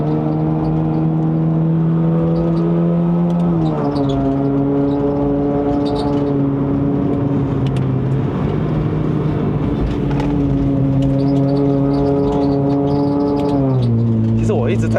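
A Honda City Hatchback 1.5L GN5 with a CVT climbs a winding uphill road in Malaysia, its engine droning loudly and holding steady pitches that step down and back up as it accelerates, with someone talking over it.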